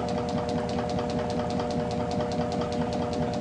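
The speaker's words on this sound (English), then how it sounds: "the generator back EMF is causing the system to slow down." A magnet-based generator rig runs with a steady mechanical hum and rapid rhythmic ticking as it slows under electrical load, with no talk.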